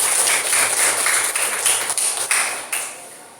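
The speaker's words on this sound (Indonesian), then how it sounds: "Kasih aplaus buat si Dindi" Classroom applause for a student in an Indonesian biology lesson, a loud burst of many hands clapping together that thins and fades toward the end.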